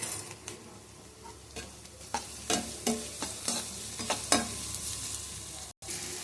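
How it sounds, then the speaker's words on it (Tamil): Onions with rock salt sauté in a pan, a soft constant sizzle broken by a quick series of close spatula scrapes and taps against the pan, busiest in the middle, with no talking. "வெங்காயம் சீக்கிரமாக வதங்கிடும்."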